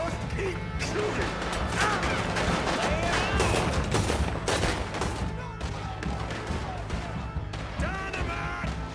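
Dense gunfire from a shootout in Red Dead Redemption 2, with overlapping shots and heavy volleys crashing continuously throughout, loud and close, while voices shout over the shooting.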